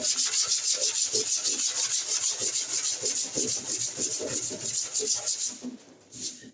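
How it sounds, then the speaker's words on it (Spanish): A sanding block works over body filler on a car panel in quick, steady back-and-forth strokes, a close, bright scratchy rasp that slows and fades near the end, with no talking. "empezar a lijar la parte central como hice en el otro sector"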